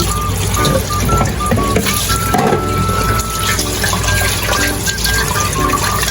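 Meat is rinsed under running tap water in a kitchen sink. A steady, close splashing flow continues throughout with small shifting gurgles.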